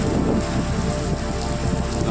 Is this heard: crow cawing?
no